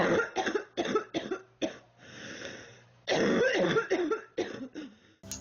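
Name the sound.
loud coughing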